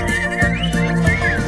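Whistled notes imitate prairie dogs in a children's song: short, bright rising and falling whistles, a few quick calls in a row, close and clear.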